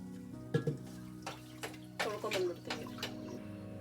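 Water sloshing over rice and lentils being rinsed in a vessel for bisi bele bath, a series of soft, irregular splashes and swishes close by, fairly quiet, with no talking.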